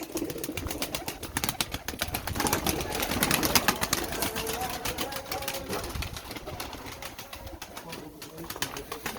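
Pet pigeons kept in a rooftop loft, including Arabian, Bozkilli and milk-type breeds, coo and stir amid busy rustling and scattered flutters, close by, with a voice talking over them.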